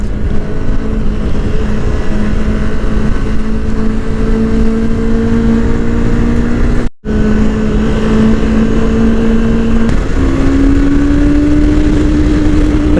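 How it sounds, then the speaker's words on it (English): Parallel-twin motorcycle ridden along an open road, its engine droning loudly and steadily with a slowly climbing pitch, broken by one brief cut near the middle before pulling on at a higher note. "The parallel twin engine obviously sounds very nice"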